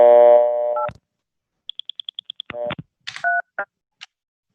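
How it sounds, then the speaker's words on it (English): A landline call on a phone-phreaking setup: a steady dial tone cuts off, then a quick run of about nine evenly spaced DTMF beeps is keyed, followed by switching tones and a couple of short signalling blips, loud and close with no talking. "I guess we'll just dial it on top of the dial tone here."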